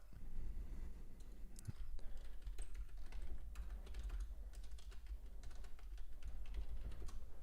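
Continuous computer keyboard typing, rapid irregular key clicks at moderate volume over a low background rumble.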